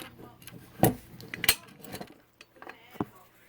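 Fire alarm pull station being pried open and reset, sharp metallic clicks and clacks, a few spaced snaps of the cover and mechanism, close up, with a little quiet talk between.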